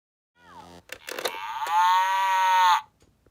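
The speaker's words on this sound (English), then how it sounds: "the first animal is a moo, a cow, a dairy cow" A dairy cow pop-up toy with a milk switch and red barn gives an electronic moo, a single drawn-out tone held for about a second after a few short clicks, loud and close.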